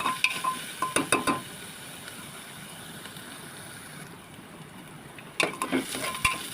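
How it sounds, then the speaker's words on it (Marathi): Onion sautéing in a pan for a bottle gourd and chana dal curry gives a steady, broad sizzle throughout, with bursts of stirring and utensil clatter near the start and again toward the end. No one talks. "आता एक कांदा परतून घेते"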